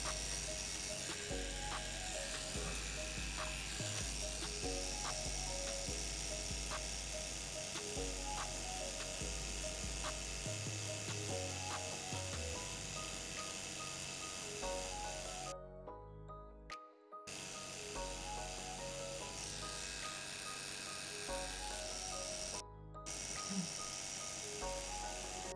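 A tattoo machine fitted with a magnum needle buzzes at a slowed 6.9 volts, a steady close electric hum that runs almost without a break, cutting out for a moment twice.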